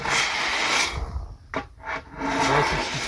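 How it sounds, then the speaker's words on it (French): A straightedge ruler is drawn slowly across a screed bed for terrace pool paving slabs set to a gentle slope, giving a close, gritty scraping rub that pauses briefly midway before resuming. "Ensuite avec ma règle je vais tirer simplement comme ça"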